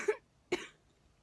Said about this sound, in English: coughing time, apparently